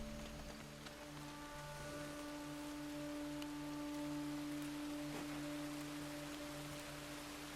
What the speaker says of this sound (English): Is this rain I hear?